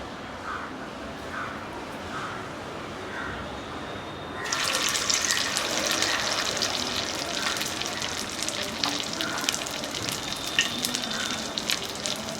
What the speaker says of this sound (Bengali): এবার আমি মেখে রাখা সয়াবিনটা হাতের সাহায্যে একটু বড় বড় করে গোল গোল করে ভেজে নেব।